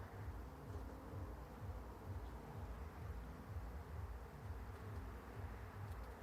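Honey bees buzz steadily during an open-hive frame inspection, a faint, continuous low drone with a soft hiss throughout and no talk.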